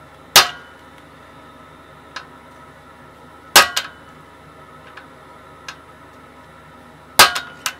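A hand-forged flower-pattern bottle opener is hammered straight on an anvil: three loud, ringing metal strikes spaced a few seconds apart, each followed by lighter taps, over a low background hum.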